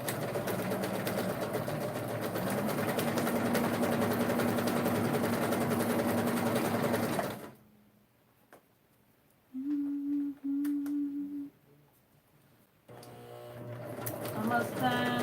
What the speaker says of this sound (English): If I was going to do it with the sewing machine.